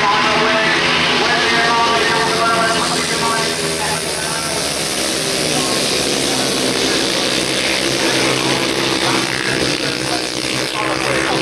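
Grasstrack racing motorcycle engines at a 1989 international meeting, revving loudly together at the start as a dense, sustained broadband roar that builds steadily, with a race commentator talking over it.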